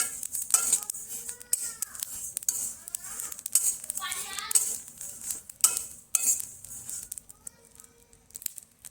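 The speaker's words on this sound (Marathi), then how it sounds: "त्याच्यानंतर शहाजिरं आणि बडीशेप हे तिन्ही एकत्र आपण भाजून घेऊ." Cumin, shahjira and fennel being roasted together in a kadhai on low gas, with scattered scraping, clinking and stirring noises of a utensil against the pan, close and intermittent, alongside occasional voices.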